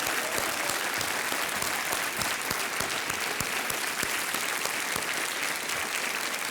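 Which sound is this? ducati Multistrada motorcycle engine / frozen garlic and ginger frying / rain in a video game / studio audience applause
studio audience applause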